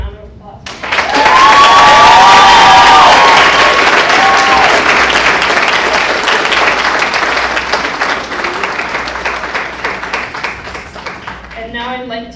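Loud, sustained audience applause at a school co-curricular awards ceremony, rising quickly into a full roar of clapping with some cheers, then fading toward the end as someone begins to speak.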